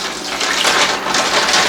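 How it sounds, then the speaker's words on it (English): Water pours steadily over wooden skewers set to soak before grilling satay chicken, a close, loud continuous gush that swells slightly midway and runs on without a break. "I'm going to pour some water over them, and I'm going to soak them so that way they don't burn"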